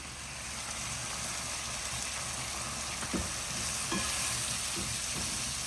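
Tomatoes fry with onions, ginger garlic and spices in a pan, a steady soft sizzle with a few sharp clacks from stirring near the middle.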